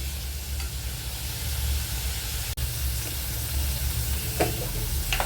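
Radish sautés in a pan for sambar, making a steady close-up sizzle with a broad hiss. A couple of faint scrapes are heard, along with one brief dropout in the middle.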